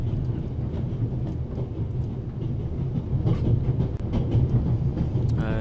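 A train runs in The Raven video game, a steady low rumble with rhythmic rattling and clatter of the carriages, close and continuous throughout.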